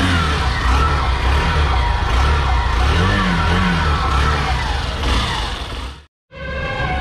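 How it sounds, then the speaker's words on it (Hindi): A 2022 Hero Glamour 125 motorcycle engine runs loud and close, its idle rumble rising and falling with revs before a brief cutoff and restart. "अब मैं आप इस ग्लैमर को स्टार्ट करके इसका इंजन साउंड सुनाता हूँ"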